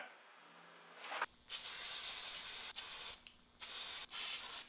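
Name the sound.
spraying cleaner fluid from a can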